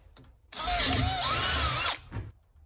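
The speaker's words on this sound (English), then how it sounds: "we need to drill a pilot hole through here." A power drill whines for about a second and a half as it bites into a center-punched spot drilling a pilot hole on a forge, its pitch wavering under load, then stops abruptly.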